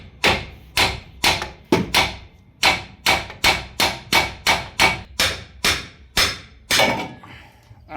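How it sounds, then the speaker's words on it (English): A big hammer knocking a car strut out of the wheel hub on a Ford Figo during bearing replacement, about fifteen loud, sharp metallic blows in a steady rhythm. "Now take a big hammer and knock to get the strut out."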